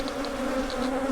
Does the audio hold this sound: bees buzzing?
yes